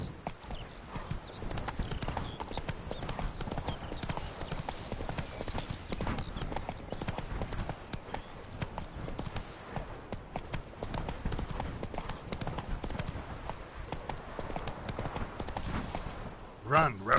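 Roach, a horse in The Witcher 3 video game, gallops in a fast, continuous patter of hoofbeats with an occasional snort, dense and loud throughout, under a speaking voice.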